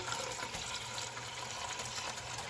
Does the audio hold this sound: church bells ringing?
no